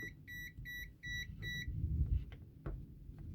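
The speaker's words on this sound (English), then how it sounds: "Hot side, we have a beep." Voltage tester beeping on a live wire: five short, evenly spaced electronic beeps in quick succession, then silence under faint handling noise.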